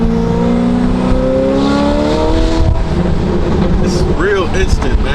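A modified Ferrari F8 Tributo with aftermarket exhaust and tune accelerates hard, its engine note climbing in rising harmonic sweeps, loud and close from inside the car, with people talking over it.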